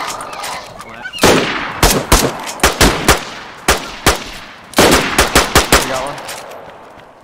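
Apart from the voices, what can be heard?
gunfire in the video game DayZ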